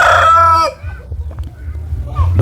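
A rooster crows loudly and close for about half a second, its call trailing off, then chickens cluck and shuffle quietly before another short cry near the end.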